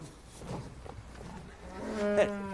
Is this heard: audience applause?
no